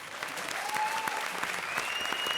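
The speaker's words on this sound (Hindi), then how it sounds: "जोरदार ताली बजा तो भाई" Studio audience on a comedy show breaks into sustained, loud applause, dense clapping filling the whole stretch with a faint whistle or voice tone rising through it.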